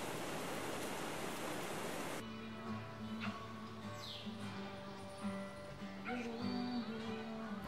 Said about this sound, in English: At night, the rain sounds the same.